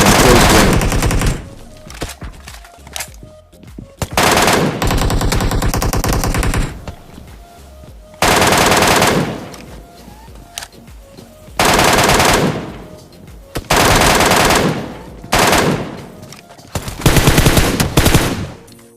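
A fully automatic weapon fires in a video game, sustained loud bursts lasting a couple of seconds each, separated by brief pauses, close and heavy, with faint talk during the lulls.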